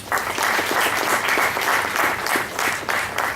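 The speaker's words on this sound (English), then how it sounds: "Can I have a round of applause for him?" Audience applause at the valedictory session of an international civil engineering symposium, loud, close and dense, with many hands clapping continuously from start to finish.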